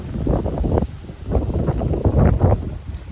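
A wind gust sweeps through a shade garden with a fire pit after Hurricane Helene, rustling in a few loud, uneven surges with no talk.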